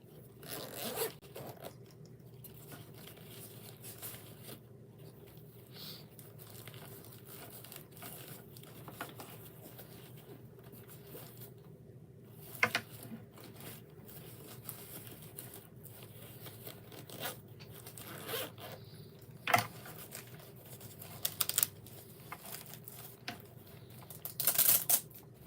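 A zipper on a webbing first aid kit with carabiner hooks is pulled open in several quiet, separate strokes across the clip, with soft rustling and handling in between.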